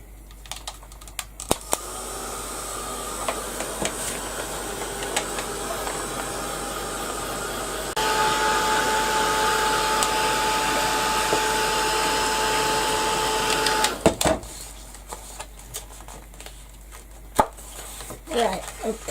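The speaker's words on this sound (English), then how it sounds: "I'm just going to give it a quick blast with the heat gun." A heat gun blowing hot air over a craft project, a steady broadband whoosh that switches to a louder setting for several seconds before cutting off, with scattered clicks and handling noise around it.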